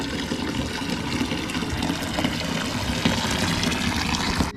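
Water pouring down in a continuous rushing splash at an adventure park in Tezpur, Northeast India, steady and fairly loud throughout with no talk.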